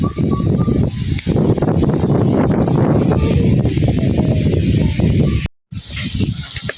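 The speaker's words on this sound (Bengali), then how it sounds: "বিশাল বাতাস প্রচুর পরিমাণে বাতাস" Strong cyclone wind roaring and buffeting the microphone in rough, loud gusts mixed with rain, cutting out briefly near the end before resuming.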